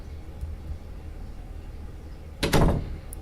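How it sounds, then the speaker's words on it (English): A door shuts with a single firm thud and short rattle near the end, following a stretch of quiet room tone. "You close the door behind you as you enter."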